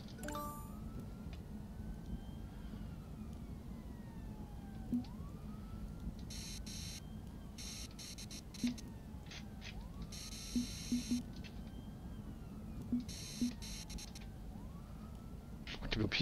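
Fire engine sirens in the City Eye video game sweep faintly up and down behind a steady low rumble, with sharp short bursts of noise breaking in now and then.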